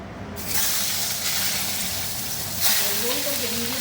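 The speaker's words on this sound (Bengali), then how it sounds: "ভেজে নিই লাল লাল করে মুগ ডালের সাথে করে" Food frying in a pan with mung dal: after a brief quiet start, a loud, steady sizzle and hiss takes over and continues, with a voice entering near the end.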